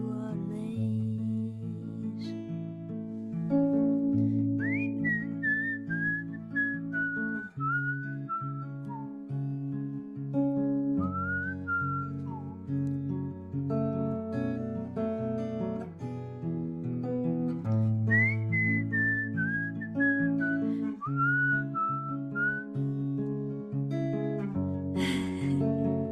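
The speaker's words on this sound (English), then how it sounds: "Whistling takes a lot of concentration, you guys." A person whistles a melodic tune for the whole span, the bright wavering pitch gliding and sliding between notes over a steady instrumental accompaniment, close and clear at moderate loudness.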